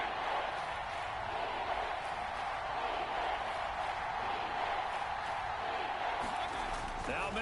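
Kansas City stadium crowd in the Madden football video game, a steady loud roar filling the whole stretch with faint scattered claps and shouts, constant and even throughout.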